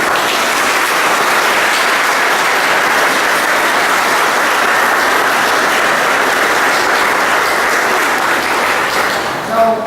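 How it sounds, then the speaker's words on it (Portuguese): A church congregation applauds steadily for about ten seconds, a dense, even wash of clapping from a large room that fades briefly at the end. "Vamos dar uma salva de palmas ao nosso Gabriel."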